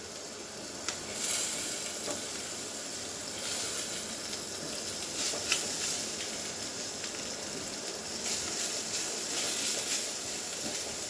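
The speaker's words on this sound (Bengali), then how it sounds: "নারকেলটা ভাজা হচ্ছে" Grated coconut frying with fresh chhana in a pan, giving a steady, fairly quiet sizzle with occasional stirring scrapes throughout.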